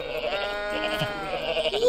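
A goat in the Goat Simulator video game lets out a loud, wavering bleat that rises and falls for about two seconds, close and clear with no talk over it.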